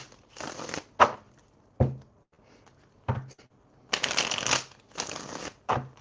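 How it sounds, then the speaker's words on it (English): Oracle cards shuffled in several bursts, crisp riffling whooshes alternating with short taps and pauses, close and alone without speech. "Let's get some more, and then we're going to close out with these oracle cards."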